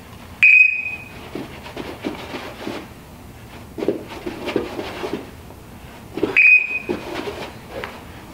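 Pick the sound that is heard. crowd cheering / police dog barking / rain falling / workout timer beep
workout timer beep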